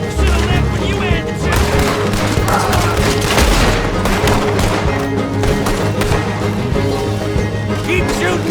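A Red Dead Redemption 2 shootout with steady gunfire, overlapping shots and booming reports mixed into a loud, busy battle din that runs throughout.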